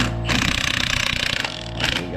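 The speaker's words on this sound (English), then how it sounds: "Now put the impact on it." An impact wrench hammers a bolt tight during a Coyote engine swap, a fast rattling burst of about a second and a quarter, then a brief second burst, loud and close in a garage.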